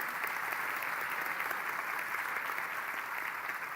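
Church congregation clapping during a worship service, steady dense applause held at an even level throughout, heard from a distance without talk over it.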